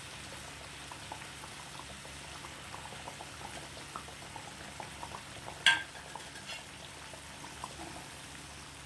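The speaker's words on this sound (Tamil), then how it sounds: "பாருங்க இப்போ நல்லா கொதி வருது" Egg curry gravy boils steadily in a pan, giving a constant close bubbling hiss with one brief knock or clink partway through; no one speaks.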